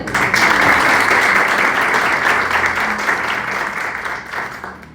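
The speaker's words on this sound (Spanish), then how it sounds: "Vamos a aplaudir al Señor" A church congregation claps loudly and continuously, a dense wash of applause that slowly thins out toward the end.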